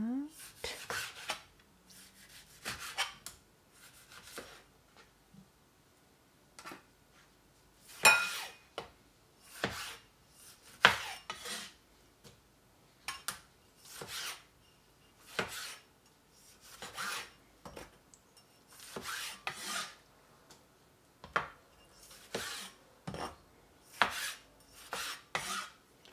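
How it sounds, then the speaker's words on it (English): An old kitchen knife is sharpened with repeated rasping strokes, a close, rhythmic series of scraping swipes separated by short pauses, no talking. "I will sharpen it a little bit."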